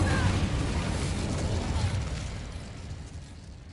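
Incendio fire spell cast in Hogwarts Legacy, a loud, dense burst of roaring flame that rushes out and slowly fades over a few seconds, close and alone.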